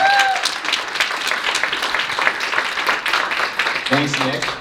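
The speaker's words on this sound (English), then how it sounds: "give them one more big round of applause" Audience at a Boston Marathon adaptive runners panel breaks into a loud, dense round of clapping that stays steady throughout, with a voice briefly audible at the start and again near the end.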